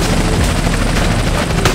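Helicopter rotors thump steadily through the action of GTA San Andreas Definitive Edition on mobile, loud and continuous and mixed with dense game noise and possible gunfire, with no speech.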